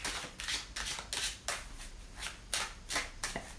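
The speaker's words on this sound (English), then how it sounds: "we can talk about that while we're shuffling" Tarot cards being shuffled by hand, heard as a run of crisp, papery swishing bursts in a quick, uneven rhythm, close up with no talking.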